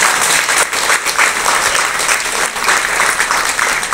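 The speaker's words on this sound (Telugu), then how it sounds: "సార్ గట్టిగా చప్పట్లు" A hall audience at a Vaisakha Pournami Lalitha parayanam gathering claps loudly and continuously, a dense close applause with slight rhythmic swells throughout.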